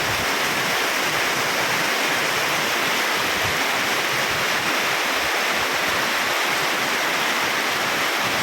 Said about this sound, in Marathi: असा पाऊस खूप गरजेचा होता तो आज पडत आहे